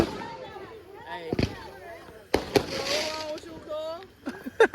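Fireworks at a Fourth of July show bang in a few sharp, loud bursts, with a cluster near the end, while people talk and shout close by throughout.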